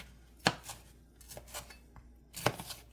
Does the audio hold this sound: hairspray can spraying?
no